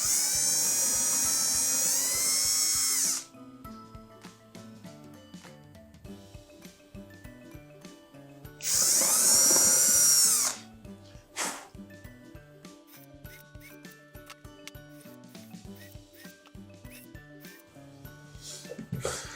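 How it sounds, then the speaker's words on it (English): A power drill with a small bit boring holes into a leather knife sheath during a repair, two loud whining bursts separated by quieter work sounds. "I've got a drill with a small drill bit, and that's gonna be the quickest and easiest for me"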